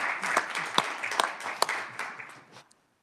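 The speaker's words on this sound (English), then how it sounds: "I thought it might be appropriate just to give her a round of applause and honoring" A small group at a state House committee hearing applauds a representative. The round of clapping is close and lively, fades after about two and a half seconds, and ends in silence.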